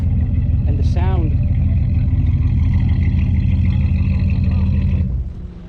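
A classic car's engine idles at a car show, a loud steady low rumble with a brief voice over it before the sound drops off at the end.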